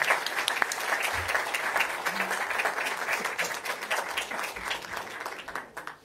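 Applause for Brazilian foreign minister Mauro Vieira at a press event in Paris: sustained, full clapping from a crowd, even and fairly loud, tapering slightly at the end, with a few faint voices beneath.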